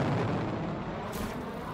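A jet crashes in Just Cause 3 with a dense, roaring explosion rumble that fills the short stretch, loud and close, and a brighter burst of debris toward the end.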